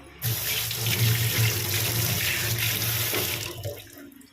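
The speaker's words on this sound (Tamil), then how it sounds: "இது கை வாஷ் பண்ணிக்கலாம்." Tap water runs steadily into a kitchen sink for hand washing during home cooking of kara kuzhambu, a strong continuous splashing stream that starts abruptly, holds for about three seconds, then tapers off.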